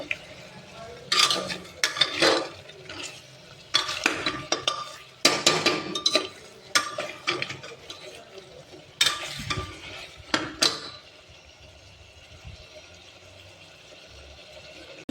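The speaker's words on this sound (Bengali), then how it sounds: "ভাজা দিচ্ছি ভালোভাবে নাড়াচাড়া করতে হবে" Repeated scraping and clanking of a utensil stirring mutton frying in a pan with salt, irregular bursts over a soft sizzle, close and fairly loud, then quieter frying.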